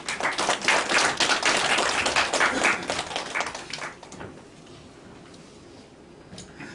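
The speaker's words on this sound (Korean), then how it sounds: "박수로 모시겠습니다." A church congregation claps to welcome a pastor to the pulpit, brisk and fairly close at first, then tapering to sparse, faint claps over the last few seconds.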